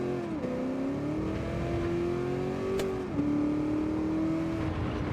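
A Camaro race car engine in a racing video game holds a sustained, loud drone, with pitch sweeps as it shifts and revs up again, running steadily with no speech over it.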